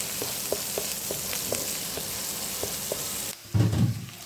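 Onion and crushed garlic fry in a pan with whole spices for a fish curry, a steady close sizzle with small pops, then a brief dip and a louder burst of frying near the end.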